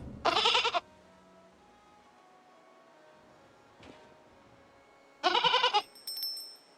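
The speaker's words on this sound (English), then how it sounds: "Now we can pick that baby goat up and steal it later." A baby goat in the video game R.E.K.A. bleats twice, loud and close, the calls several seconds apart over a faint steady game ambience with a soft thump between them.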